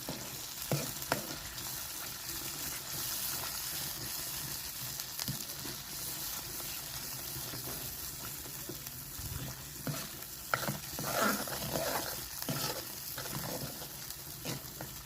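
Spices frying in oil for a bitter gourd curry give off a dense, steady sizzle with soft crackles and occasional stirring scrapes, fairly close and continuous throughout.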